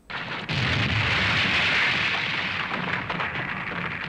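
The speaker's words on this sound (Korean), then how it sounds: "손에서는 이글거리는 황금빛 에너지탄을 발사." Golden energy blasts shot from bare hands as an anime sound effect: a loud roaring burst that erupts suddenly and holds as a dense, rumbling wash, fading slightly toward the end.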